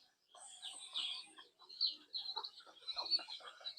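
Soft, distant chirping and clucking from young turkeys, a busy scatter of small peeping calls continuing throughout.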